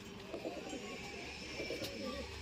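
A Punjabi pigeon held in the hand gives soft, low cooing in a few murmured bursts, fairly close and quiet.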